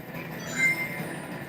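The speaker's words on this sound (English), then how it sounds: "is this the train you've been following the whole time?" A train in the Sonic 06 video game rumbles along steadily with a faint high metallic squeal rising briefly midway, moderately quiet and with no voices.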